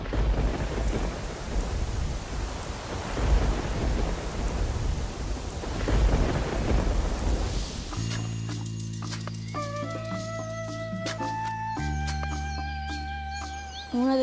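Steady rain falls during a thunderstorm with rumbling thunder, while later a bright synthesized musical tone sequence plays over the rain.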